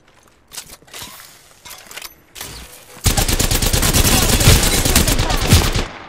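Rapid automatic gunfire erupts in Apex Legends, loud sustained bursts following a quieter stretch of scattered shots and game noises, close and continuous to the end.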